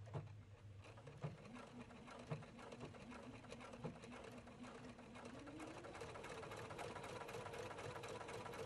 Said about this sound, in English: Touch the fix button to sew tiny fixed stitches at the beginning of a seam